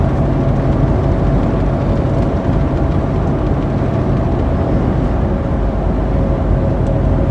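Steady loud road and engine drone inside a moving vehicle at about 70 mph on brand-new Goodyear Wrangler Authority tires, a constant low rumble with a faint high whine running throughout.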